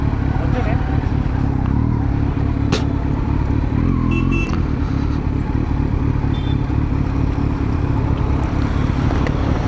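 A new motorcycle's engine runs with a steady, continuous low rumble and hum that stays close and even throughout, with no clear revving.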